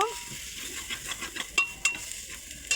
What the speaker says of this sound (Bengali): এটা একটু ভালো করে কষে নেব